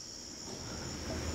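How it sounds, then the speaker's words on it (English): Crickets chirp in a steady, continuous high trill, faint and distant, with no other sounds. "I hear crickets."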